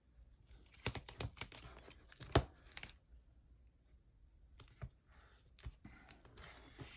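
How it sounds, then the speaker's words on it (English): Craft tape being torn by hand in a run of sharp ripping bursts, close and fairly quiet, with pauses between tears and no talking. "because I rip things instead of just using scissors all the time and cutting"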